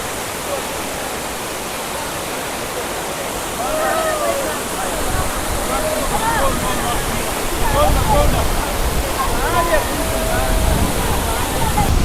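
Chinna Suruli Falls pours down in a steady, loud broadband rush of water, growing slightly stronger over time, with voices faintly audible under the roar.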